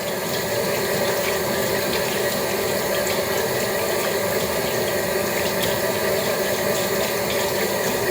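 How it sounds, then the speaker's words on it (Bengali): Tap water runs steadily into a sink while hands are washed, a constant close hiss and splash with no pauses and no talk. "এখন আমি হাতগুলো একটু ধুয়ে নেব"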